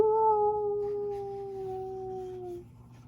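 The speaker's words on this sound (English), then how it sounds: "He lifted his head and howled." A single long, steady howl that slowly falls in pitch and fades after a couple of seconds, clear and close, with quiet background afterward.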